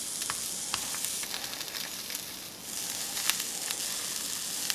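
A ham and cheese crepe sizzles in a hot pan, a steady bright crackling hiss with scattered pops, fairly close and continuous with no voices.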